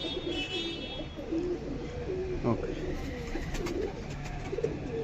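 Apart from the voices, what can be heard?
pigeon cooing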